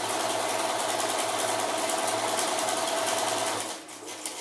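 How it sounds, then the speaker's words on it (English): A sewing machine stitches across the end of a fabric face mask with a loud, close, steady rapid whirring drone that runs for several seconds and then stops abruptly, leaving a few faint clicks. "And fold it, and just sew across the end"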